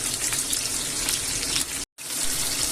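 Brine drained from a jar of chickpeas into a sink: a steady, close gush of pouring liquid that runs without a break, stops for a brief moment near the end, then resumes.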